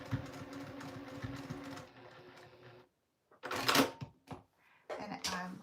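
Sewing machine stitching leather onto a pocket and interior, running in a steady mechanical whir for a few seconds, then short clacking bursts and handling sounds nearby.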